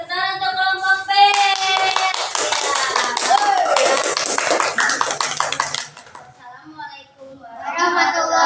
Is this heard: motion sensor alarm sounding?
no